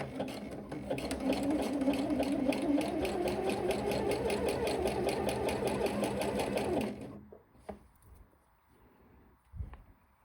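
A sewing machine stitches elastic onto the waistband of a skirt, a steady fast mechanical chatter running for about seven seconds before stopping, followed by a few faint handling knocks.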